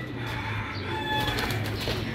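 Pigeons at a pigeon show beat their wings in a soft, steady flutter against a low background hum, with faint coos and no talking.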